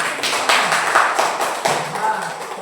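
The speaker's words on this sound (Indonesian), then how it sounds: "beri tepuk tangan dulu ya" Students in a classroom during an Islamic religious education lesson break into a short round of applause, a dense steady patter of many hands clapping at moderate distance with faint voices mixed in.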